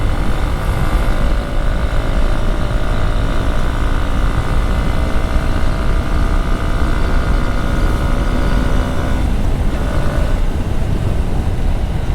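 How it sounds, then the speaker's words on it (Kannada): A motorcycle with a fresh double-tip spark plug and cleaned air filter pulls hard under acceleration, a loud, steady engine roar with sustained harmonic drone throughout, no voices. "ನೋಡಿ ಎಳೆಯೋದು ನೋಡಿ ಗಾಡಿ."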